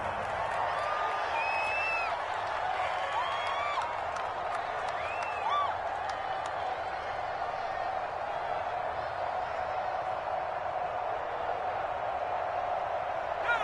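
Stadium crowd at a Madden football game between the Steelers and the Browns, a steady distant roar and murmur with scattered whistles and faint cheering, continuous and moderate in level.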